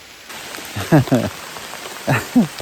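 Steady rain falls in a forest as a constant, moderate hiss, with a few short spoken syllables over it.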